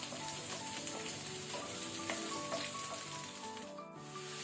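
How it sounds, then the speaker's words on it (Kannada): Garlic and onion frying over a medium-high flame, a steady close sizzle and crackle with small pops throughout, no talking. "ಇದನ್ನು ಸ್ವಲ್ಪ ನಾವು ಫ್ರೈ ಮಾಡ್ಕೊಳ್ಳುವ ಮೀಡಿಯಂ ಟು ಹೈ ಫ್ಲೇಮಲ್ಲಿ."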